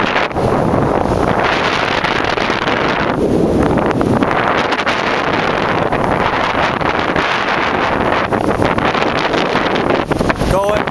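Strong wind buffets the microphone on a beach before a kitesurf downwinder at Hua Hin, a loud continuous roar and rumble with gusting surges throughout.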